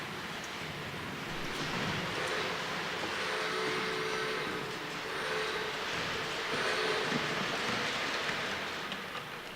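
A train rolls by at a distance, a broad steady rumble and hiss that swells and fades slightly, with faint high metallic squeals.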